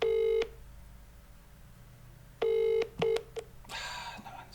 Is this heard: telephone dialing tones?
yes